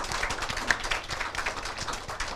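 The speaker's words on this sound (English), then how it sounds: "Round of applause for the mentees." A conference audience at a women entrepreneurs summit applauds mentees, steady scattered clapping from a room of people that carries on throughout at moderate distance.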